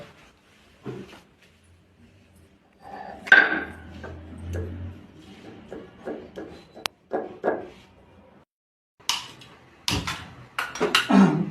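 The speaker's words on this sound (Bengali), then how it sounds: "থেতলে তো নিতে হবে, থেতলে নিই আদাটা" Irregular knocks, thuds and scraping as ginger is crushed in a home kitchen for biryani, with bursts of pounding separated by quiet gaps and a few sharp clacks toward the end.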